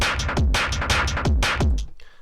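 Breakbeat pattern plays back from a Maschine Plus with a filter on the drum group: punchy kicks and bright snares in a quick syncopated loop, loud and upfront, cutting off near the end.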